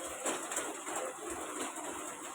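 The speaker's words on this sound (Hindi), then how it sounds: "यहाँ पर बारिश बहुत ज़्यादा तेज़ हो रही है, एकदम जोर से" Heavy rain pours down in a steady, dense hiss that holds at an even level from start to finish, with no voices.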